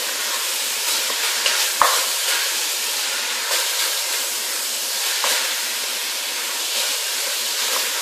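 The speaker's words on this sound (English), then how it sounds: "I'm going to put that in and give that a good stir again." Crushed fresh garlic frying in a pan while being stirred, a loud continuous close sizzle with a few scraping stir strokes and one sharp knock of the utensil against the pan.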